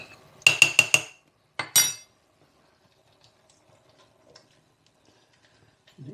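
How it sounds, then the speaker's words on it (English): A spoon stirs a cornflour mixture in a bowl, giving four quick clinks in a row, then a short pause and a couple more rattling knocks, followed by near silence. "give it a bit of a stir in"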